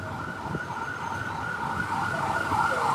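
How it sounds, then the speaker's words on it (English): An ambulance siren wails steadily on a street in Cambodia, loud and close, holding its pitch throughout with traffic rumbling underneath. "Ambulance, ambulance."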